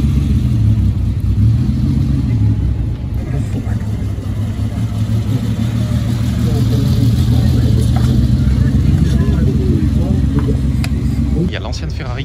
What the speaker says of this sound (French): il y a une ancienne Ferrari qui arrive